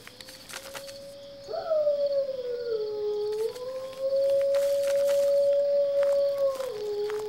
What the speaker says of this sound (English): I don't think you need quite as many wolves.